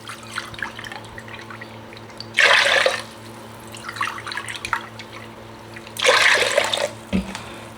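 Water poured from a cup into a jar of beetroot pickling brine with vinegar, in two short splashing pours separated by a quiet pause, close by.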